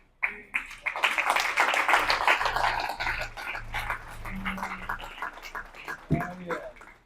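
Congregation applause at a Spanish-language church service, a dense wash of clapping that swells quickly, holds steady, then fades and thins toward the end.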